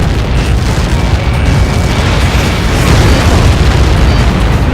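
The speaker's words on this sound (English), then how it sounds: "How many got caught in that explosion?" Missile impact explosion in the Ace Combat 7 flight combat video game, a loud continuous rumbling blast that roars steadily throughout without pause, with no talking over it.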